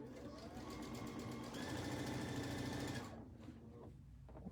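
A sewing machine back stitching the edge of a pillowcase, a fast close mechanical whirring for about three seconds that then stops, leaving quiet room noise.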